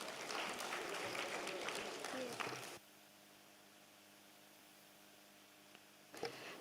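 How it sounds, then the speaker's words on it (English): Audience applause at a design conclave in India, a loud crowd clapping for about three seconds before it cuts off abruptly to quiet room tone, with a short burst of noise near the end. "A huge round of applause, please."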